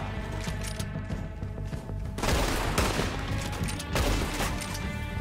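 Gunfire in Red Dead Redemption 2 during an outlaw shootout: repeated loud shots in quick bursts over a dense bed of game music and noise, the heaviest volleys coming in two surges.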